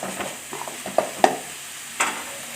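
Masala with turmeric being sautéed and stirred for a Bengali-style egg curry, a soft steady sizzle broken by a few sharp spatula scrapes and taps against the pan, close and alone without voices.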